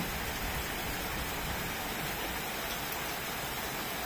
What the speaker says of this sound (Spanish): Miren, ya está lloviendo ahora sí.